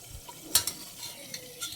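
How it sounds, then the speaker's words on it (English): Masala spices fry in a little oil for a trotters dish with a low, soft sizzle broken by a couple of sharp spoon-on-pan scrapes and clinks, heard up close. "Masala is fried."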